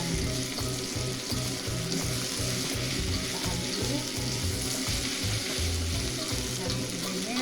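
Tempeh and green chilies stir-frying in a pan, a loud continuous sizzle with regular rhythmic scraping and tossing of a spatula throughout, no voices.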